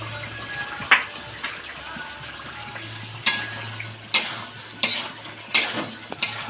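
Capsicum stirred into frying masala for a paneer curry, with a low steady sizzle broken by sharp scrapes and clinks of a spoon against the pan at irregular intervals, close and fairly quiet.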